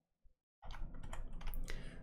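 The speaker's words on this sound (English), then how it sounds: "if we press 2 on the keyboard to get my red wall" A few rapid keystrokes on a computer keyboard, close and crisp, clustered into a short burst of clicks after a brief near-silence.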